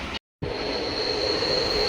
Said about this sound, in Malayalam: ട്രെയിൻ പയ്യന്നൂർ റെയിൽവേ സ്റ്റേഷനിലേക്ക് എത്തുകയാണ്